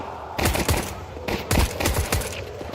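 Rapid pistol gunfire in a Counter-Strike 2 pistol round, several sharp shots in quick bursts with short pauses between, loud and close, with no talking.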